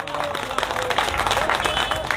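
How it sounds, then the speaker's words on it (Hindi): Audience applause at a political speech in Hindi, a dense patter of many clapping hands that keeps up steadily through the clip, with a voice talking over it. "शायद तालियां बज जानी चाहिए।"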